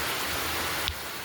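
Spring rain falls steadily in a backyard, a continuous soft hiss of drops on surfaces with one brief knock near the end and no voices.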